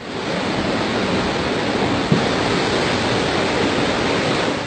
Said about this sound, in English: Just look at these waves.